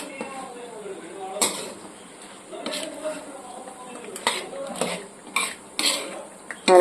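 Spoon scraping and stirring through masala-coated fish pieces in a pan while making village-style snakehead (varal) fish pickle, with intermittent clinks of utensil on metal and a person speaking over it.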